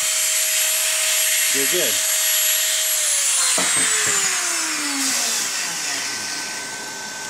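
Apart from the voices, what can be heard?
power drill drilling through tire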